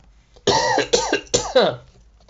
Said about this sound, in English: sorry, I got the coughs.